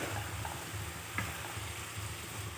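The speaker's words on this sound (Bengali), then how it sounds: "জলটা শুকানো পর্যন্ত ভালো করে নেড়ে চেড়ে যেতে হবে।" Cabbage with spices being stirred in a pan until its released water dries off, a steady frying sizzle with soft scraping strokes and one sharper clink, no voices.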